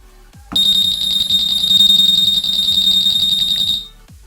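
A Honda Vario 150 motorcycle's keyless remote alarm activates: a loud, continuous high-pitched electronic tone with a rapid pulsing underneath, sounding for about three seconds before cutting off.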